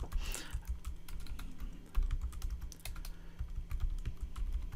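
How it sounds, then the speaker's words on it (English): Steady keyboard typing on a computer while choosing a website color palette, rapid clicking keystrokes running continuously for nearly five seconds over a low background hum, no talking. "I type worse when people are watching."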